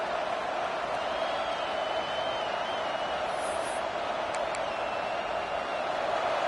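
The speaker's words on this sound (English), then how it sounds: "This crowd trying to make life miserable for this offense." A football stadium crowd roars in a continuous dense wash of noise that stays level throughout, distant and broad with no distinct voices standing out.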